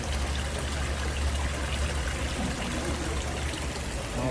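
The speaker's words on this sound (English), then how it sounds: "Beautiful pond." Water trickles steadily into an outdoor pond at a shop selling ponds and aquarium fish, a soft continuous splashing with no voices over it.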